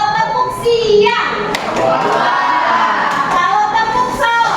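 Children in a classroom clap their hands during a clapping game, with a few sharp claps standing out amid lively children's voices and chatter throughout.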